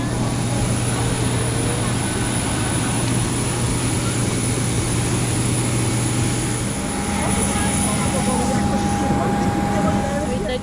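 Airliner engines droning steadily on an airport apron beside a Smartwings jet, a continuous loud hum with a whine throughout, no pauses.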